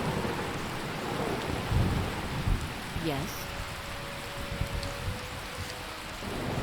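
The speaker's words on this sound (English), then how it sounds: "Wow, it is raining heavy." Video game heavy rain hisses throughout while low thunder rumbles underneath, and a brief sweeping whistle cuts through midway; a voice speaks briefly.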